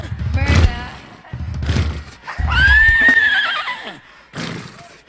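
A horse neighs and whinnies in several loud, close bursts, with one long rising-and-falling whinny in the middle and short snorting calls around it, isolated like a sound effect.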